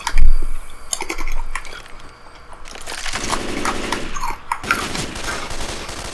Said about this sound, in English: I'm gonna try that other shotgun.